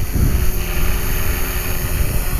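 A small RC helicopter's rotor whirs steadily at a distance, a continuous buzzing drone with gusts of wind over the microphone.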